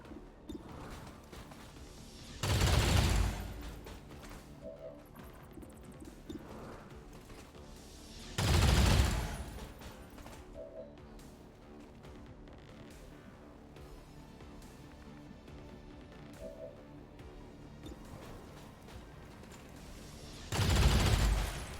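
Three short, loud bursts of gunfire in a Highlander mod video game are spaced several seconds apart over a quiet background hum with faint soft beeps.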